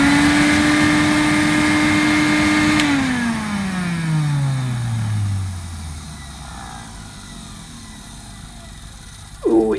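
A vintage 1975 Hooverette vacuum cleaner runs with a steady loud motor whine, then switches off and its pitch glides smoothly downward as it winds down, leaving a faint hum and a brief clunk at the end.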